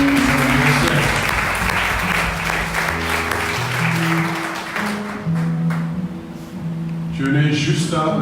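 A church congregation claps and cheers in praise for a birthday, loud sustained applause mixed with voices and music, tapering midway before swelling again.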